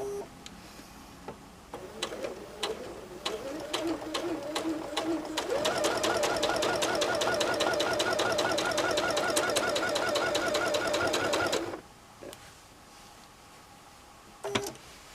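A sewing machine stitching straight-line quilting runs in a fast, steady mechanical rattle for several seconds, preceded by short ticking starts and ending abruptly, close up, with a voice speaking briefly around it.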